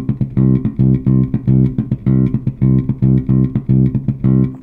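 Bass guitar line with muted ghost notes worked in between the fretted notes, giving a steady, driving rhythm of repeated low notes and short percussive clicks, played close and loud with no voices.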